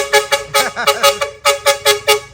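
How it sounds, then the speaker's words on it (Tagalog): A dual trumpet horn fitted to a Yamaha NMAX scooter blares in a rapid series of about nine loud, close honks, some short and some held, with a brief voice underneath. "yung bike na may busina natin na dual trumpet"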